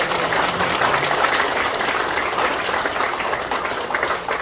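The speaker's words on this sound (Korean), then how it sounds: "박수 한번 쳐주십시오" A crowd applauding at a National Assembly member's 2024 legislative report meeting held in a community service center, steady loud clapping that fills the whole clip without speech.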